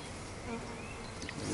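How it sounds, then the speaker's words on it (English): Honeybees buzzing from a newly opened bee package, a steady, close hum of many insects with no pause and no voices. "Let's see if we can keep the rest of those bees in there."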